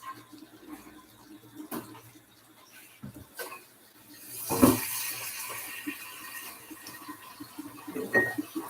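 Tap water runs steadily into a big pot for a korma, a continuous splashing rush with a louder gush midway, close and moderately loud, with no talking over it.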